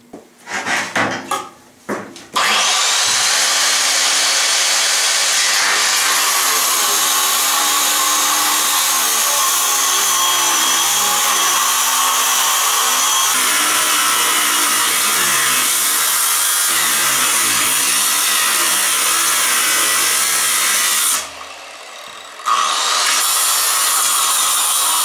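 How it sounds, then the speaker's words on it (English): A big angle grinder cuts into the steel nose plates of an Sd.Kfz. 222 armoured scout car, a loud sustained grinding whine that runs steadily for about twenty seconds, with a short pause near the end before it resumes. "Thought I'd try the big grinder."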